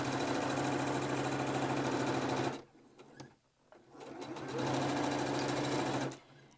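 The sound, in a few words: sewing machine stitching a fabric mask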